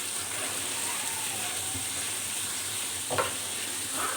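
Quiet stirring and soft sizzling as spices, including red chilli, are mixed into an okra curry in a pan, with a brief scrape near the end and no talking.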